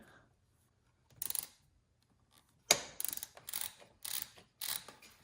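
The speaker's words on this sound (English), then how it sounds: "We'll go ahead and loosen our two 6mm on our lower triple on the right side." A ratchet wrench loosens two 6mm bolts on the lower triple clamp of a Triumph Daytona 675 motorcycle, giving short bursts of rapid clicking separated by pauses, close and fairly quiet.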